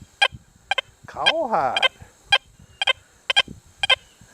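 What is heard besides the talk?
XP Deus 2 metal detector bird dog program tone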